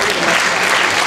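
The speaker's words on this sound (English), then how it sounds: "Please give them a round of applause." Audience at a Latino cultural show applauding, a dense, steady wash of many hands clapping from a crowd, loud and continuous for a second.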